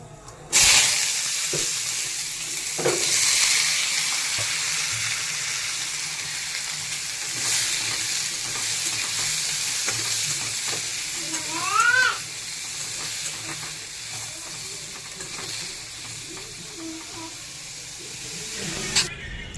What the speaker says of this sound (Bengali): এই যে কড়াই তেল দেওয়া হয়ে গেছে, আর কালো জিরে ফোড়ন দিয়ে আলুগুলোকে ছেড়ে দেবো।